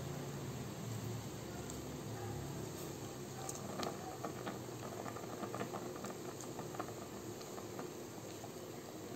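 Papaya leaves simmering in a pot of salted water for papaya leaf curry, a steady broadband hiss and bubbling that holds evenly throughout with occasional faint clinks, no voices.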